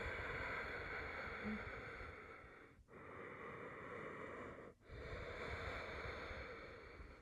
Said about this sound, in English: That's what it sounds like, that soft ocean breathing, little constriction through the throat.